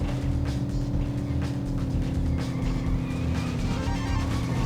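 Racing car engines in Midtown Madness 2 drone loudly and steadily, with a 1960s Ford Mustang Fastback pony car among the pack, layered revving and a brief tire squeal under continuous motor noise.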